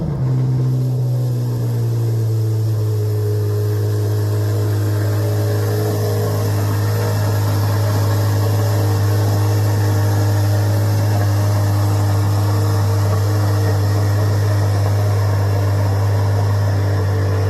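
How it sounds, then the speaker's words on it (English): A Corvette Z06 exhaust rumbles at a steady, loud idle with a deep, constant drone that stays unbroken and close throughout, with no talking over it. "This is the first Z06 exhaust sound of the day."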